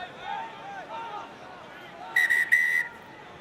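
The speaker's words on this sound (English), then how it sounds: "Referee's blown his whistle just to halt the game." A referee's whistle at a professional rugby union match between Ulster and Ospreys gives two sharp, shrill blasts in quick succession over soft stadium crowd murmur.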